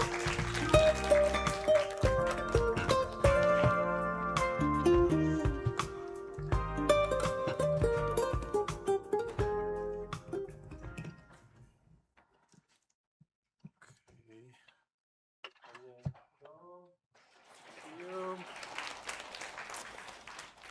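A conference audience at an international meditation conference in Korea claps to welcome a professor to the podium. Music plays first, and a short, dense burst of applause follows near the end.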